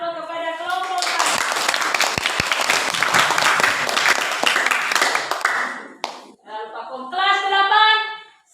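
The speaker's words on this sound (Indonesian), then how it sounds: "berikan aplaus kepada kelompok kami" A school class group presentation, with dense clapping from the room filling the middle of the stretch for several seconds, a voice speaking before it starts and voices continuing after it fades.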